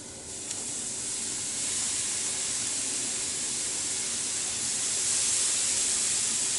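Soy sauce hits rice frying in a pan for pork fried rice, giving a steady close broadband sizzle that swells slightly louder toward the end, with no talking.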